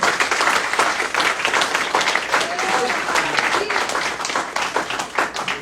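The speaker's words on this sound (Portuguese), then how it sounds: "Pode aplaudir o Senhor." A church congregation applauding during a worship service, a dense, loud roar of many clapping hands with some voices and cheers mixed in, continuous across the whole stretch.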